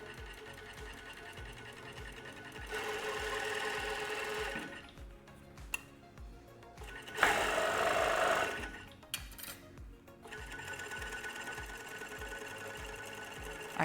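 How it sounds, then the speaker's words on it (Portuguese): A sewing machine stitches bias binding onto a girl's bra, its fast needle motor running in steady bursts separated by brief pauses and light handling clicks, close and clear with no talking. "a gente começa a costurar"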